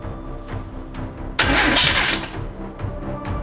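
A car engine cranks with a rough, sputtering burst that coughs briefly and fails to catch, then fades back to a low rumble.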